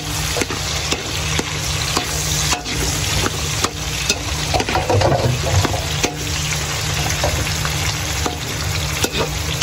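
Pork sautéing in a pan, with a continuous close sizzle and frequent stirring clatter of a utensil against the pan. No talking.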